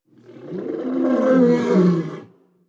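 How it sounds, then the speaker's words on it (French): A large tiger gives one loud, sustained roar, swelling over about two seconds and then fading out, heard alone with no talk. "il y avait un énorme tigre"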